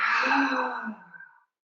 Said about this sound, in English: Big stretch, and then exhale, yawn it down.